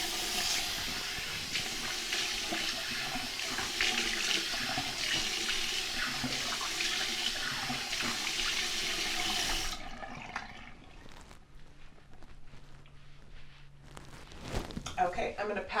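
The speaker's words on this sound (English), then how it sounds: "So now I'm going to rinse with ice cold water." Ice-cold water running from a tap into a sink for rinsing a face, a steady close rush that stops abruptly partway through, leaving quieter room sound and a few small splashes.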